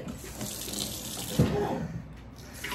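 Water runs steadily from a tap as a Keurig coffee maker's reservoir is filled, a close, continuous splashing rush that fades slightly toward the end.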